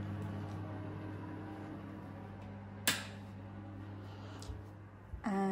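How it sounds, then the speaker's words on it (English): An electric fan runs in a house room with a quiet, steady low hum, broken by a sharp click near the middle and a few soft knocks toward the end. "apologies for the noise of the fan"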